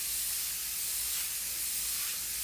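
An airbrush sprays orange-toned paint onto a t-shirt while painting a lion, giving a steady, unbroken hiss of air and paint at moderate level with no talking.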